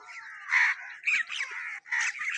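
Several crows caw in short harsh bursts in the early morning while picking at insects, four or five calls in quick succession, fairly close and clear with no talking.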